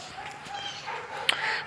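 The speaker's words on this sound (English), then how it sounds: "Is there a dog fight?" Dogs bark and yip in a possible scuffle, several short barks rising over a steady background, the loudest sharp bark near the end, heard at a moderate distance.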